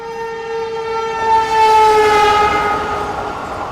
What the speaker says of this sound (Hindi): कोई तो ट्रेन है जो अच्छी खासी रफ्तार में स्किप कर रहा है इस स्टेशन को